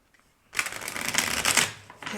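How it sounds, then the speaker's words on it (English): A deck of cards is riffle-shuffled close up, a quick fluttering burst of rapid snaps lasting about a second and a half. "let's shuffle here."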